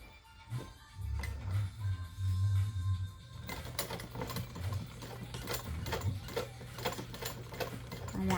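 A sewing machine stitches through vinyl in uneven bursts of fast, close mechanical whirring, with brief pauses between runs and some light handling noise.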